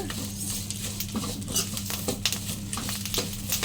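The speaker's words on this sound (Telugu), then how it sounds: "ఇప్పుడు ఇందులోనే జీలకర్ర కూడా వేసుకుని వేయించుకుందాము" Cumin seeds being dry-roasted in a pan while making a curry leaf spice powder, an uneven crackling patter with light scraping and stirring, close and moderately loud, with no talking.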